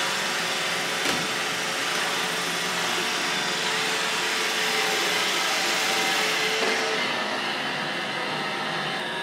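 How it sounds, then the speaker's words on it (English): A robot vacuum cleaner motor hums steadily and fairly loud throughout, with a broad whirring hiss and a faint bump near the start. "these vacuum cleaner robots"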